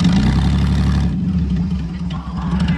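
A demolition derby car engine, a Buick or Chevy, runs loud and close, first revving with a rough throaty drone, then dropping to a lumpy, uneven idle with clattering pulses.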